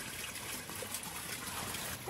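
Water trickles steadily along a small garden stream, a soft continuous babble heard close by with no voices over it.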